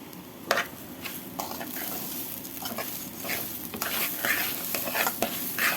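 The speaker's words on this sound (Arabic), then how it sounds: "ونقلب الكلام الجميل ده" Seasoned food with salt and black pepper being stirred in a pan, with intermittent scraping strokes and soft clicks over a steady low sizzle, close up and fairly quiet with no talking.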